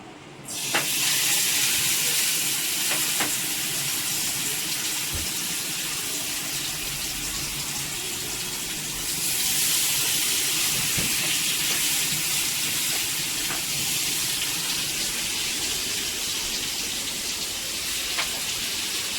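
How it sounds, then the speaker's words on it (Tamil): Marinated tandoori chicken fries in hot oil, a loud, steady hiss and sizzle running throughout, with occasional faint pops and clicks. "இப்போ வந்துட்டு இந்த மேரினேஷன் பண்ண சிக்கனை வந்து போட்டுக்கலாம்."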